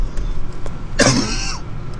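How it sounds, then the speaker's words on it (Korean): A single short, loud cough close to the microphone, rough and throaty, standing out alone against faint background noise. "기침하지 마. 랜선 타고 온다."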